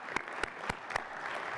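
Sparse, loud individual claps ring out over a soft background wash of applause at a school district retirement ceremony, the claps spaced irregularly and then settling into a steady murmur of clapping.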